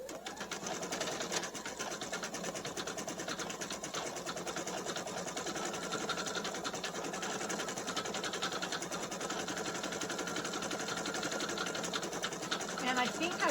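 A Sew Tech PA889M 6x6 inch (150x150mm) magnetic hoop holds fabric while an embroidery machine stitches a design, a steady, dense mechanical buzz of rapid needle strokes running continuously throughout with a voice talking over it.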